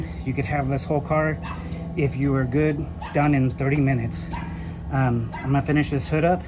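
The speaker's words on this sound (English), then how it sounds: "That's my dog barking." A dog barks and yips repeatedly near someone restoring the paint on a 1958 right-hand-drive VW Bug, the barks mixed in with someone talking steadily over them.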